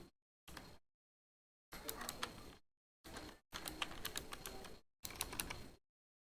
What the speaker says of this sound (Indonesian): Lalu saya ketik nama